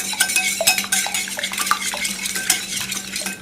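Three eggs are whisked in a bowl with a utensil, quick irregular clinking and scraping strokes against the bowl, close and loud, with no talk.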